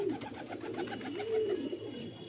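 A captive pigeon coos in a soft, rolling, low-pitched call repeated steadily, close and fairly quiet, with no one talking.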